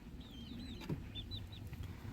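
A farmyard flock of chickens settling onto their roost at dusk gives faint, soft clucks and short chirping calls, sparse and low in level, with nobody speaking.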